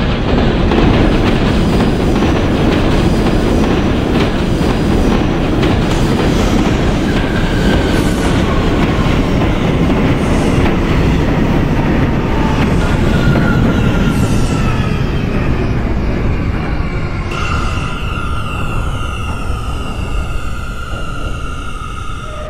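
An R179 subway train on a Brooklyn-bound J local run along Jamaica/Nassau Street in the OpenBVE simulator game rumbles loudly and continuously with clattering wheels, while rising and falling squealing tones join toward the end.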